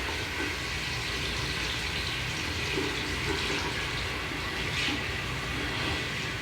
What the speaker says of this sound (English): the sink in the bathroom is being the show off now